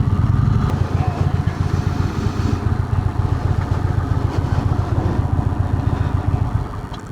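A 2025 Indian Springfield Dark Horse motorcycle idles close by with a steady, loud, low-pitched throb that eases slightly at the very end.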